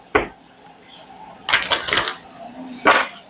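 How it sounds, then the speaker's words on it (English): A deck of cards is shuffled in a few quick crisp bursts, riffling and snapping close by, separated by short pauses. "while I'm shuffling the deck, it says raise your vibration"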